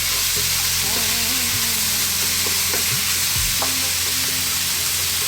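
Fresh chili frying in a pan for a kingfish curry masala, a steady loud sizzle with scraping stirs and a few clacks of the utensil against the pan, no voices.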